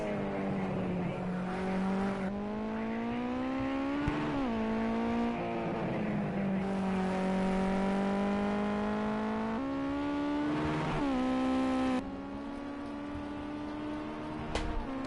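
Race car engines roar past the finish line at a Club Racing UK race night, loud rising and falling revs with gear shifts and sweeping pitch changes, several cars passing close in sequence.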